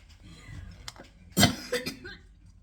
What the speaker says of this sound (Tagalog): si Lola ay may ubo